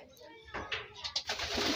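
A racing pigeon that has just flown home after a smash race in Mabitac, Laguna gives a few soft, low coos close by, over faint background noise.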